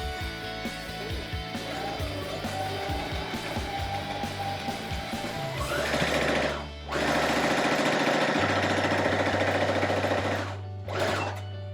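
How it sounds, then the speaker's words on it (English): Sewing machine stitching fabric, a loud close mechanical whir that runs steadily, briefly stops near the middle, then resumes at a faster pace before a short final burst. "I'm going to just hold the fabric nicely, find my presser foot, and I'm going to start sewing."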